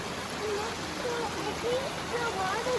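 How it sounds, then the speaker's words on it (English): Stream water flows steadily under a bridge near a waterfall on a reservoir trail, a continuous broadband rush close by with faint high chirping over it. "Can you hear the water going down?"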